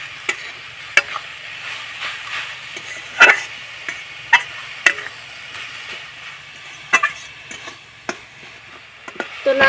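A coconut and jaggery filling being stirred in a pan: a soft steady sizzle with repeated sharp scrapes and taps of the spoon against the pan at irregular intervals, heard close with no talking.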